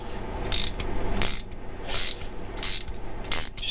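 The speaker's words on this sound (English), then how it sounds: "So you span over the end, start tightening it down" Ratchet clicks from a 17 mm spanner tightening a brake pipe flaring tool, five short crisp bursts evenly spaced at close range with no talking.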